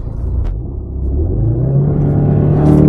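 A 2017 Ford Focus RS, an all-wheel-drive hot hatch in track mode, accelerates hard from a launch with a loud, close engine rumble that steadily rises in pitch, capped by a brief whoosh near the end.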